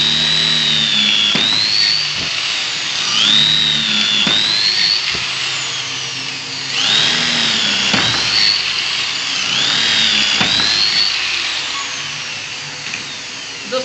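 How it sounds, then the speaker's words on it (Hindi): A power drill with a bolt bit bores holes into a wooden window frame, a steady high whine that rises and dips in repeated cycles as the bit bites into the wood, continuous and close throughout. "अभी मैं आपको गुज के बताने वाला हूँ इसमें किस तरीके से गुजा जाता है"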